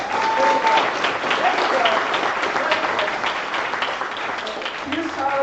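An audience at a national assembly breaks into steady, dense clapping that holds at an even level throughout, with a faint murmur of voices beneath.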